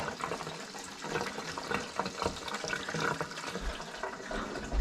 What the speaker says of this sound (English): So we're gonna do a quick rinse on it.